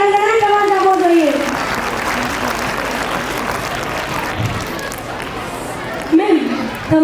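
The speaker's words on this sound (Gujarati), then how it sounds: "વાહ વાહ વાહ, તાળીઓ પાડો" Audience applause at a school annual function: a sustained, dense wash of clapping for several seconds, with voices over it at the start and again at the end.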